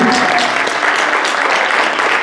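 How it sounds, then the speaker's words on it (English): Steady applause from an audience at a monthly staff meeting awards segment, honoring a staff award nomination; dense, continuous clapping fills the whole stretch at close range with no voices over it. "a round of applause, please, for his nomination"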